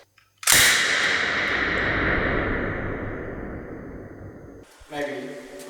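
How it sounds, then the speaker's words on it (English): Prop machine gun fired on a horror film set, one long loud burst that starts abruptly and rumbles on for about four seconds with a fading echo, then stops as faint voices follow. "Oh, you have a machine gun. Does it do quick rounds? Does it go brrr?"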